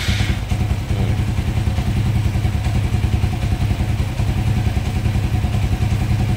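A motorcycle engine fitted with a racing throttle position sensor starts and runs, settling into a loud, close, steady clattering idle with a rapid even pulse and no talk over it.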